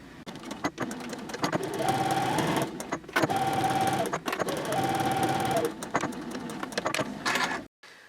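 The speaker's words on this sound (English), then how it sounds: "And then you'll sew one side of the lining together." A sewing machine stitching one side of a fabric basket lining at a short stitch length, running in three steady whirring bursts separated by brief pauses, close and clear.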